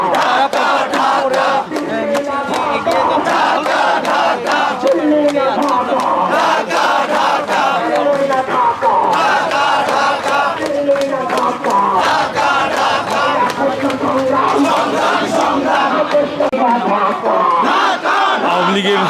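A large protest march in Dhaka demanding a ban on the Awami League, with a loud crowd chanting slogans in rhythmic unison continuously and up close.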